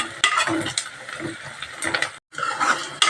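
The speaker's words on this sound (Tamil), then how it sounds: "பூண்டு போட்டு நல்லா கலக்கி விட்டுடலாம் நல்லா வதங்கட்டும்" Garlic sautéing in oil for Mysore sambar, stirred with scraping spoon strokes against the pan over a crackling sizzle, close-up, with a brief silent gap.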